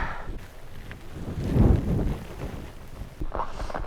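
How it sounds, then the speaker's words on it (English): Gusting wind at a snowy mountain summit in winter buffets the microphone in low rumbling surges, swelling in the middle and easing again, with no one speaking. "It's kind of windy here"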